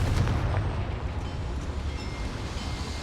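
A Confringo fire spell bursts in a small mine in Hogwarts Legacy, a dense rumbling blast with heavy low boom that rolls on steadily and loudly throughout, with no talk over it.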